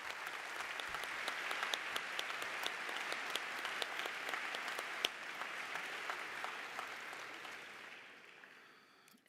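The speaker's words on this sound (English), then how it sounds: "Could you please give them a huge round of applause?" A commencement-day crowd at a Global BBA graduation ceremony claps for professors: a dense, steady round of applause from a large audience that holds for about eight seconds, then thins and fades out near the end.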